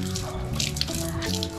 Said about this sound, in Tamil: தண்ணி பிடிக்கிற போயிட்டு இருக்கேன்